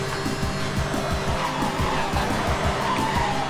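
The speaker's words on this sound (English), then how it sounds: "Okay, drift in that corner. Gorgeous drift." Tires squeal and skid as a car drifts through a corner in Need for Speed on the SNES, the engine revving in choppy bursts under continuous screeching.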